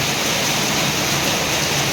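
Heavy rain pours steadily, a dense, even hiss of falling water filling the whole moment with no voices or breaks.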